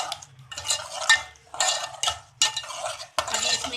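Spoon stirring rosemary and oregano into a spice masala in a bowl, a series of scraping, clinking strokes in bursts with short pauses between, close and fairly soft.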